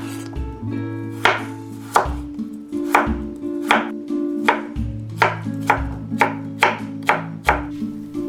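A knife chops a carrot on a cutting board, about a dozen crisp, evenly spaced strikes that come close and clear, with tonal background music running underneath and no talking.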